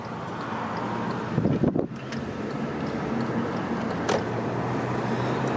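A car drives along Midland Avenue in Scarborough, Toronto, heard from inside the cabin as a steady low road rumble and wind noise, with a brief louder bump partway through and no talking.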